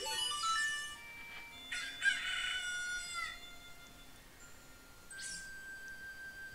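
A rooster crows in Legend of Zelda: Ocarina of Time, giving a bright, drawn-out cock-a-doodle-doo, then a second crow and a short third call over a quiet background, with no voices.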